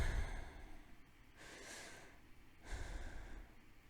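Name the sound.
breathing sounds in a pause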